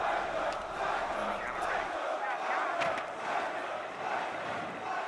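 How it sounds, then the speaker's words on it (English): An excited crowd roars steadily in an arena at a Manchester esports Major semifinal, a broad, continuous wash of cheering and shouting with brief louder swells. "You can hear the crowd already excited."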